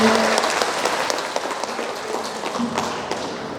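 An audience at an education coaching clinic event applauds, giving dense, steady clapping throughout that tapers a little toward the end.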